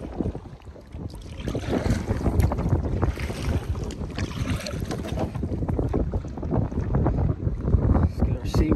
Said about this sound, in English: this damn wind is crazy, man. It is blowing like crazy.